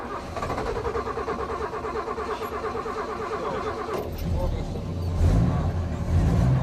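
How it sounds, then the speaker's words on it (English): A vintage jeep engine drones steadily throughout while driving, with a rougher, louder rumble building toward the end; a voice talks faintly underneath. "You can really hear the engine, not just when it's parked, but also when you're driving along."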